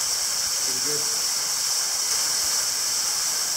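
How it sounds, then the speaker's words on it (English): Steady broadband rush of a waterfall in Hidden Jewel Gorge, Australia, during an abseiling descent, a constant close hiss with faint voices briefly audible beneath it. "This is number four waterfall."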